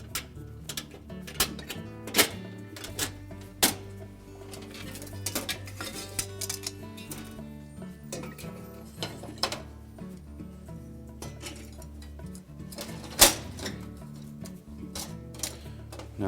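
Metal stove parts are set into a GE electric range: a drip bowl, then a trim ring, then a surface burner element, giving a scattered series of close clinks, taps and rattles with brief quiet gaps between them.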